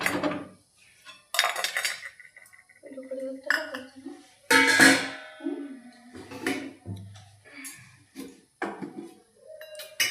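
A kadhai and other metal utensils clatter and clank on a kitchen stove in intermittent, close, ringing knocks, with a voice speaking in between.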